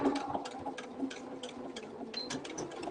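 A sewing machine stitching a small wallet runs alone in a close, steady run of rapid needle ticks, with a few brief pauses and restarts.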